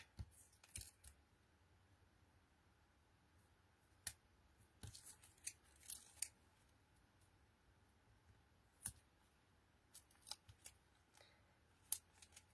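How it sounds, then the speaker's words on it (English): Scissors snip into metal wedding card cutting dies that still have both protective covers on, giving a few sparse, crisp, quiet cuts spaced across otherwise still room tone with no talking. "And then all I'm going to do is just snip into them."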